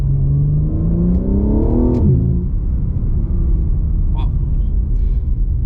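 Engine of a 2023 BMW G80 M3 Competition xDrive revs up through a gear, pitch climbing steadily before a quick paddle upshift drops it at about two seconds, then a lower steady rumble with faint clicks.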